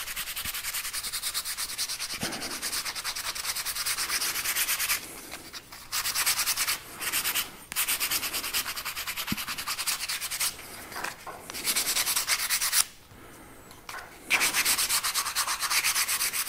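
Cherry wood is hand sanded with 80-grit sandpaper to take off sharp edges left by an oscillating sander, steady close scratchy rubbing strokes broken by several short pauses.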